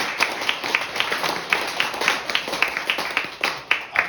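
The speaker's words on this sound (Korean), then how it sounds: "동의하시면 박수 한번 부탁드립니다." Applause and clapping fill the room at a Korean political lecture, a steady run of fairly close hand claps with sharp individual strikes throughout.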